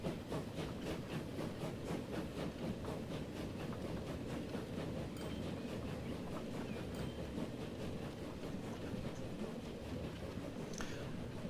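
A train rolls steadily along the track in the railway game Transport Fever, a faint, continuous rumble with a regular clickety-clack rhythm.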